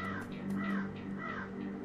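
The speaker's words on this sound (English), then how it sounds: "Looks like crows." Crows caw in the video game Shadowrun Returns, a few hoarse calls repeating over a steady low ambient hum.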